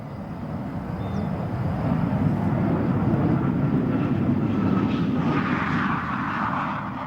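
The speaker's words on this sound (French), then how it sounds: "le premier décollage de l'intercepteur Mirage 401 est exécuté par Roland Glavany sur la piste de Melun-Villaroche." A Dassault Mirage IV supersonic jet on its first takeoff at Melun-Villaroche, a steady, loud broadband engine roar that holds constant throughout with a slight swell midway and no voices.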